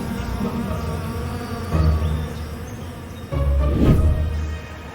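Estonian-breed honey bees buzz steadily around people at a historic-city retreat, a continuous close drone that swells louder as individual bees pass near.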